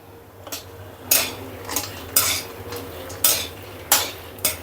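A spatula scrapes and clinks against a hot kadhai as food is roasted on a low flame, with regular metallic strokes about once a second over a low steady hum and no talking.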